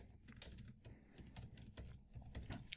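Fingers type on a computer keyboard in quick, irregular bursts of light clicks and taps, faint and close, with no voices.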